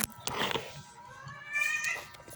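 Several cats meow in short, overlapping calls, fairly close and loud, with some rustling between them.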